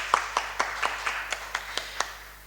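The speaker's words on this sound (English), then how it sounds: "So a big round of applause to Dr. Panachit." Applause from a conference audience at a panel session on AI regulation, heard as a short run of separate, fairly evenly spaced claps, moderately close and not very loud, with no talk over it.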